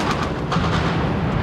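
Cluster bomb blasts in Grozny during the First Chechen War, a loud rumbling series of booms and crackling detonations rolling together in a dense, continuous roar with no talking.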